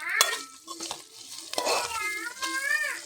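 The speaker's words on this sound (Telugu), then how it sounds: "పచ్చిమిర్చి, వెల్లిపాయలు, పుదీనాను కూడా అయితే వేసి ఆయిల్లో అయితే వేపుకోవాలి" Green chillies, garlic and mint fry in oil for a vegetable pulao, a soft sizzle under clattering utensil knocks and scrapes, with a voice briefly audible in the background.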